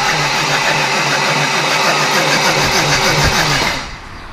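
A rebuilt BMW engine fires up and settles into a steady, loud idle with a dense mechanical hum and even rhythm, then drops sharply in level near the end.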